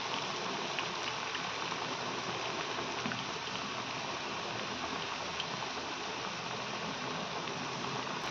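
Marinated chicken pieces half-frying in a pan, giving a steady, even hiss of sizzling oil that holds at a constant level with no pauses and no voices.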